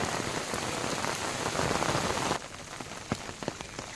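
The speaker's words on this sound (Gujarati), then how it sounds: "સામે તમે જુઓ ધોધમાર વરસાદ આવી રહ્યો છે" Heavy downpour at Uparkot Fort in Junagadh, near Rani Ranakdevi's palace, a dense loud roar of rain pounding surfaces that abruptly thins to lighter pattering with scattered sharp drips.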